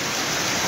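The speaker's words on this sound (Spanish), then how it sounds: "tenemos como 20 minutos aquí atrapados en la lluvia" Heavy rain pours down in Cancún as a dense, continuous, even hiss with no breaks and no voices heard.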